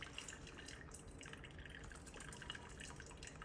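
Hot water trickles in a thin, quiet stream onto coffee grounds in a Bodum pour-over, a soft steady pouring with light dripping textures, close and faint with no talking.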